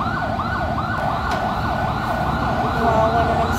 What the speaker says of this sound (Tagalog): Kawawa naman yung ambulansya.